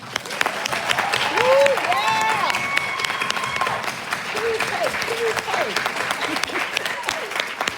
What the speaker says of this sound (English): Please give a round of applause for all of our panelists today